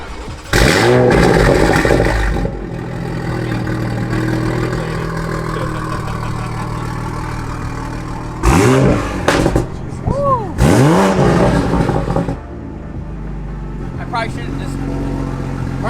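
A Toyota Supra engine, already warmed up, cranks and fires, then revs in several sharp rising and falling bursts before settling into a steady idle, loud and close, with people talking over it.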